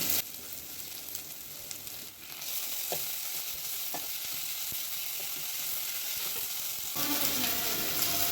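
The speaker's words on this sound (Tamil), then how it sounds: "அரை ஸ்பூன் இஞ்சி பூண்டு பேஸ்ட் சேர்த்துக்கிறேன்." Onion, tomato and ginger garlic paste fry and sizzle steadily in a pan for a chicken liver roast, with a few soft stirring clicks over a constant crackling hiss.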